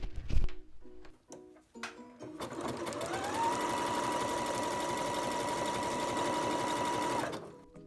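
A sewing machine runs steadily for about five seconds, stitching a neckband with a guide foot that rides along the bias binding, a loud even whir after a few short starts.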